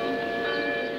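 Carillon of the old Garrison Church in Potsdam: sustained, ringing bell tones with a steady resonant hum and overlapping chimes, continuous and fairly loud through the whole short stretch, no voices.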